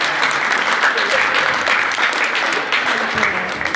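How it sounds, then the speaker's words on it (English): A post-prom event audience claps in a dense, steady wash of applause that stays loud and even throughout, with a few voices mixed in. "Give them all a big round of applause."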